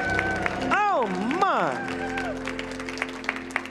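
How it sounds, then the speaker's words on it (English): Audience applause and cheering at a Pittsburgh healing service, steady crowd clapping under sustained sung or spoken tones and a brief exclamation. "Can you clap?"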